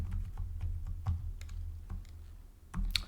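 Fingers type a spreadsheet formula on a computer keyboard, producing a close, irregular run of crisp key clicks and taps, with a slightly louder cluster near the end and no speech.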